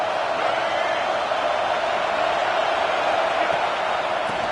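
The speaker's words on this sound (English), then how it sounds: "how nice is it to have the home crowd going absolutely bananas?" Home stadium crowd roaring in the College Football 26 video game, a steady, dense wall of cheering noise that holds at constant loudness throughout with no pauses.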